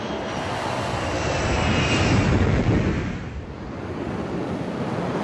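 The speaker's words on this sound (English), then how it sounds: "The Sukhoi 30 MKI, the frontline fighter of the Indian Air Force." A Sukhoi Su-30MKI frontline fighter jet of the Indian Air Force roars past, a loud, dense, steady jet rumble that swells, dips briefly, then holds, with no voices.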